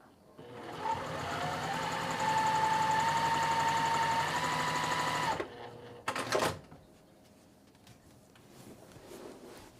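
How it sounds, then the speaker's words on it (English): A sewing machine runs steadily for about five seconds with a whirring motor hum, then stops, followed by a couple of brief clunks and quiet room noise. "I'll head over to the machine now. And I'm just going to go ahead and just sew through it"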